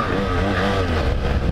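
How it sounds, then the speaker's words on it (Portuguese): A BMW F800GS motorcycle revs hard in first gear for a wheelie, a loud close engine roar climbing in pitch over a brief burst. "Vamos dar um grau aqui. Vou dar um grau de primeira marcha e jogar a segunda."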